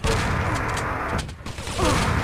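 Shotgun blasts ring out in a Quake match, dense and loud, layered over constant game noise in one long barrage.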